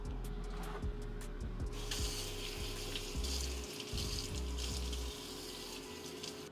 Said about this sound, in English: I'm gonna go rinse this off, and this will go into the sandwich.